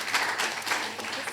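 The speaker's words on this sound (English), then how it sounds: "A round of applause for Bintu." Applause for a moderator taking the stage at a foundation panel event, a steady dense patter of many hands filling the room with no voices over it.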